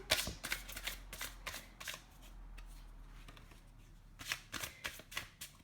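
Quick riffle shuffling of a tarot deck: crisp bursts of flicking cards in a few fast rounds, close and clear with no talking.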